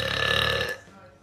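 A person lets out a single loud, resonant burp lasting under a second, close to the mic, then it trails off into quiet.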